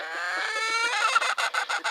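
A hen on a farm clucking at roosters, a close, fairly loud rising squawk that breaks into a quick run of sharp, rhythmic clucks.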